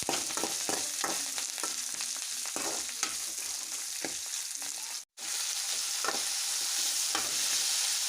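Tomato pieces fry with peanuts in a pan for rava upma, a steady close sizzle broken by repeated stirring scrapes, with a brief dropout midway.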